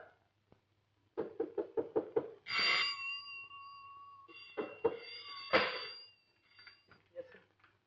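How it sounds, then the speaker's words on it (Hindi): Repeated knocking on a door, about six quick raps in a row, followed by a cat's loud drawn-out meow and further thumps, set in a 1972 Hindi film scene. "क्यों दरवाजा खटखटाया जा रहा है?"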